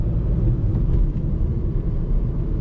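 Steady low engine drone from a Renault Clio 5 with the 1.0 SCe engine cruising in fifth gear at about 1500 rpm, around 50 km/h; a continuous rumbling hum with road noise, no talk.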